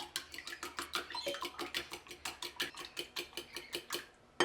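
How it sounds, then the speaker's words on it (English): Eggs are beaten in a bowl with a fork or whisk, giving a quick, even run of light clinking strokes, close and fairly quiet, with no voices. "crack the eggs in a bowl and start whisking them either with a fork or a whisk"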